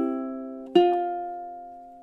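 Ukulele picks measure 23 of a song, a held note decaying before one fresh plucked note rings out bright and close, with nothing else around it.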